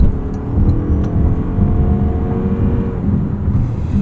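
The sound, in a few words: 2026 Toyota RAV4 GR Sport accelerating onto highway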